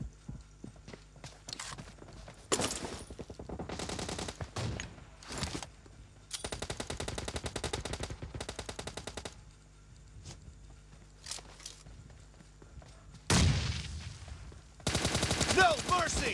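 Intermittent bursts of gunfire in the mobile game PUBG Mobile, short rapid volleys separated by quiet gaps, fairly faint overall with a few louder clusters near the end.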